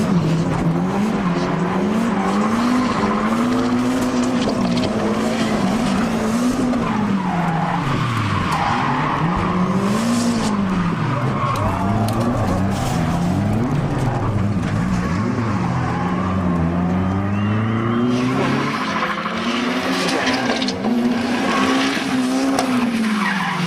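Drift cars battle side by side, including a white Nissan 180SX, with loud, continuous tyre squeal and skidding over wavering engine revs at close range across the whole stretch.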